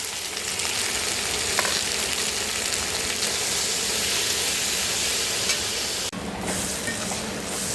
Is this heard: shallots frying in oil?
yes